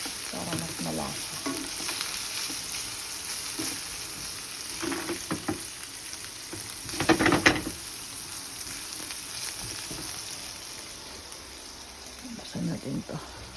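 Tender meat for lomi browning in a pan, a soft continuous sizzle broken by several bursts of stirring and scraping, with a voice talking intermittently underneath.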